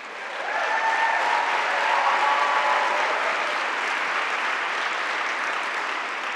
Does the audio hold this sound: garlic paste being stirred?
no